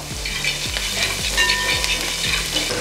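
Garlic, ginger, green chilli and curry leaves fry in hot oil in a pan with a loud, steady sizzle. Scraping stirs rise now and then over the frying.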